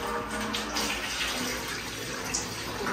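A tap runs steadily while tomatoes are washed, a faint continuous splash of water lasting throughout with no talk.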